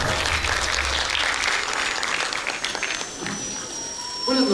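An audience applauds loudly and continuously at a rap songwriting competition, a dense wash of clapping and crowd noise that fades slightly before a voice comes in at the end.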